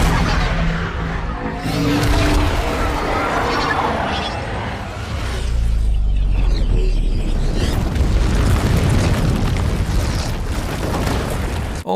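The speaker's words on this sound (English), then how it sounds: "it ends on one of the coolest explosion effects ever" A film explosion effect caps a train heist sequence in the Star Wars sequel trilogy, with a deep rumbling boom and crackling debris that swell and sustain amid loud score and effects.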